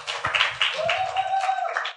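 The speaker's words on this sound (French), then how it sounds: "On applaudit, on l'encourage." An audience claps to encourage a boy at a stage event: a steady, close wash of applause for about two seconds, with a thin whistle-like tone running through the middle.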